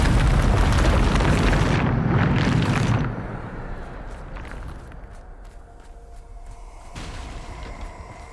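Depulso force spell cast in the Hogwarts Legacy video game, a loud broadband rumbling blast that holds for about three seconds before cutting to quieter game ambience with scattered small impacts.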